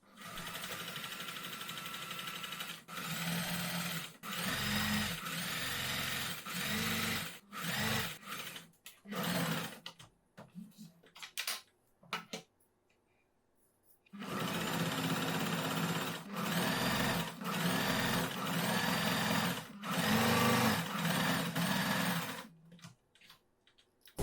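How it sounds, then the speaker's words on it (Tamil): Sewing machine stitching the side seam of a girls' summer dress, running in long loud bursts with short stop-start gaps and a quiet pause midway before a second sustained run. "இதே மாதிரியும் இன்னொரு சைடு தச்சுக்கலாம்."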